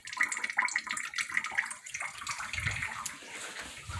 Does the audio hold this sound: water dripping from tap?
yes